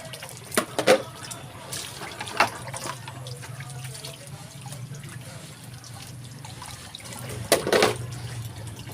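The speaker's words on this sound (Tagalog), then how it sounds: "magbanlaw na tayo ng plato" A kitchen tap runs steadily while plates are rinsed, with a continuous wash of water broken by a few louder splashes and clatters near the start and again toward the end.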